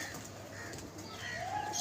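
Pigeons at a pigeon club coo softly and intermittently, a low murmuring call close by with faint background noise.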